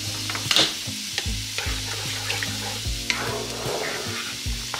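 A spoon stirs risotto in a hot pan, scraping in repeated, steady strokes over a constant soft sizzle, close and fairly loud, with no talking.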